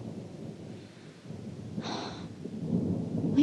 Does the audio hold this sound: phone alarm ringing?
no